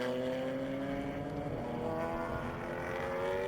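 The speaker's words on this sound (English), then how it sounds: "it sounds quite gruff, that car. Still it's got the 2-litre engine" Race car with a 2-litre engine in a club enduro race at Silverstone International, heading toward the village hairpin. Its gruff, steady drone sounds fairly distant and rises slightly, with no talking.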